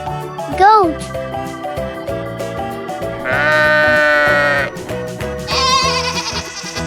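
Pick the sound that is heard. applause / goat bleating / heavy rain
goat bleating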